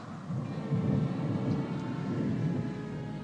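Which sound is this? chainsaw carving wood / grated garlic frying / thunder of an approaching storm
thunder of an approaching storm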